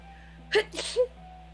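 A single short sneeze, close and clear, with a quick breathy follow-through in an otherwise quiet room.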